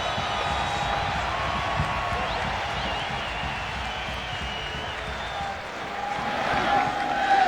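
Stadium crowd roaring continuously through the final minute of the first half of extra time at a soccer match, a broad, steady wash of noise that swells slightly near the end.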